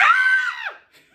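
A single sustained high-pitched scream, sung as the crocodile line of the children's rhyme, holds steady for about two-thirds of a second and then slides down and cuts off, close and clear.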